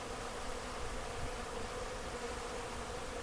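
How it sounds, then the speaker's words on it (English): Honeybees hum around a beekeeper close to the hive, a steady, soft drone of many wings holding level throughout with no voices. "The only thing annoying about the bees is, for some reason, I've had them follow me all the way up to the house"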